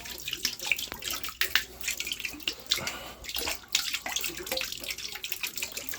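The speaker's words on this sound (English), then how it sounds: "I got to take some water down from inside the boiler" Water drains and gurgles out of a Weil McLain boiler, a close, uneven splashing flow with irregular spurts and drips, no talking over it.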